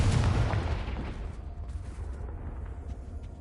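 Confringo blasting spell exploding in Hogwarts Legacy, a loud close boom at the start that decays into a rumbling, fading tail, with no talk.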